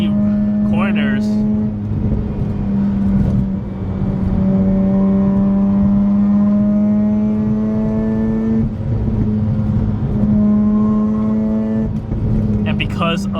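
A Mazda RX8 drives on icy winter roads, its rotary engine holding a steady, close whirring drone that rises and eases with throttle, with a voice talking briefly over the engine.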